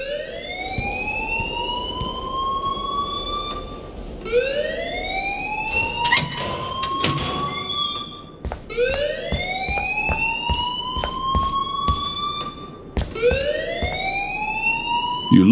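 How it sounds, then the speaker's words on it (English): Electronic alarm sounding in the Life is Strange video game, a loud repeating rising whoop that sweeps upward again and again in long cycles, with a brief burst of other noise midway. "please turn off that alarm since that's your job"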